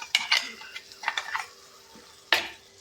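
Ground spice paste being stirred and sautéed with onions in a pan for a Kerala-style catfish curry, with a few distinct scraping clinks of a utensil against the pan and a soft sizzle underneath.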